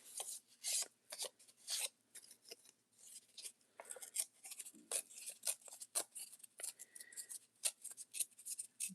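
Scissors cut recycled paper junk-journal material in half with a rapid run of crisp, close snips and rasping slices, each stroke short and dry, with brief pauses between bursts and no talking.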